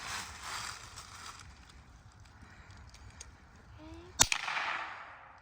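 A single sharp crack from a Crickett .22 youth rifle fired outdoors at a target, sudden and loud above steady background wind and rumble, with a brief ringing decay.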